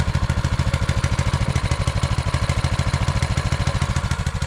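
Rebuilt engine of a Manco Dingo, fixed with a new head gasket, runs at a fast steady idle with an even rapid thumping pulse and slight clatter, close and alone.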